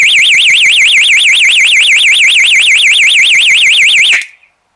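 An extremely loud, piercing electronic trip wire alarm warbles rapidly up and down for about four seconds, then cuts off abruptly into silence.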